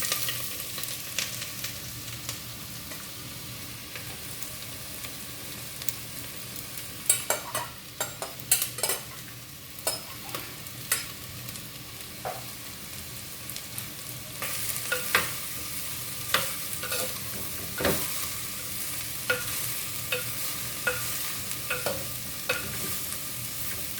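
Bitter gourd sautéing in coconut oil in a pan, a steady close sizzle running throughout with frequent scraping stir strokes and light utensil knocks, no voices.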